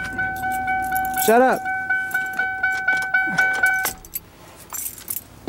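A ring of car keys jangles loudly for about a second near the start. It comes over a steady horn-like chime tone, and a person speaks briefly nearby.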